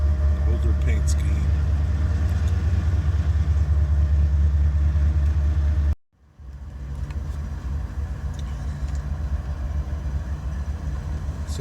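Eastbound freight train Q300-27 at Wilsmere yard produces a heavy, steady low diesel rumble, loud and near. It cuts out abruptly midway and then resumes at a slightly lower level.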